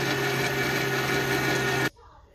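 An electric mixer beats room-temperature butter with six tablespoons of sugar for muffin batter, giving a loud, steady whirring drone that runs unbroken and then cuts off abruptly just before the end.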